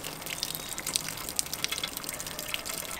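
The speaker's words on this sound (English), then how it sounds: "Let's see if we can race the water down to the other side." Water is poured into a newly installed house rain gutter and runs along it, a close, steady rushing flow dotted with small splashes and drips throughout.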